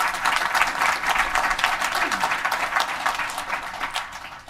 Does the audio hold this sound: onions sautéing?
no